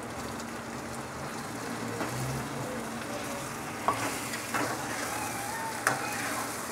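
Onions, ginger and garlic fry and sizzle in a pan for a karela aloo fry, a steady close crackle with a few sharp stirring clinks, no talk.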